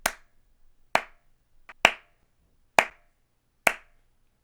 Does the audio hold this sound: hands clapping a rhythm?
yes